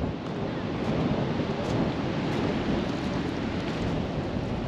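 Shallow-water waves breaking and rolling onto a rocky shore at St. Maarten, heard as a steady, dense wash of surf with some wind noise, fairly close and continuous with no talk.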